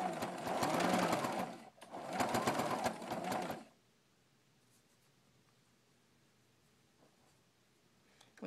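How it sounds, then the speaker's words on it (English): A sewing machine runs a straight stitch through fabric onto a hemmed rag rug base, whirring loudly in two close bursts with a short pause between them, then stopping and leaving near silence. "I'm just going to do a straight stitch through the center onto the base of my"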